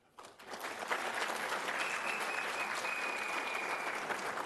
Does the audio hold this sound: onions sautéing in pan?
no